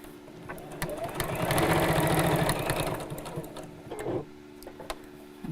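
A sewing machine stitching a small fabric pouch, a rapid mechanical chatter that runs for a few seconds, slows and stops, then gives a short burst again, close and clear with faint room noise.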